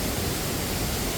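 Steady, dense roar of Vazhvanthol waterfall in Trivandrum, water pouring down from above, close and continuous without a break.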